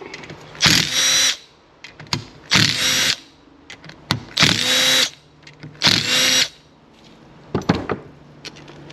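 A small impact wrench hammers at fasteners on a DS90 two-stroke engine during a rebuild, firing in four loud, close bursts of about a second each with short clicks and handling noises between them.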